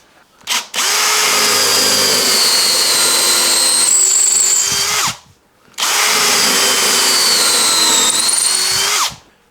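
A power drill whines loudly in two long bursts, drilling holes in the back of an SG guitar body, each lasting several seconds, with a short pause between them, close by.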